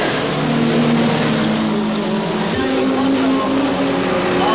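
Race cars including a four-wheel-drive Audi Quattro and a white Mercury Cougar roar around a road course, engines droning loudly with a pitch shift as one passes, under crowd-like ambience.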